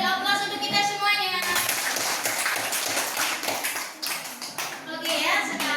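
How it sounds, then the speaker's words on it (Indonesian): A class of ninth-grade students applauds in a classroom, the dense, close clapping building quickly and continuing throughout, with some children's voices mixed in. "Beri aplaus untuk kita semuanya."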